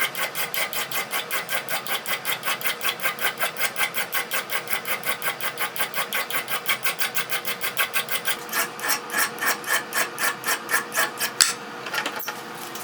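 A metal file rasps across a hardened steel hammer head in steady, rhythmic back-and-forth strokes, loud and close, continuing for many strokes before slowing and stopping.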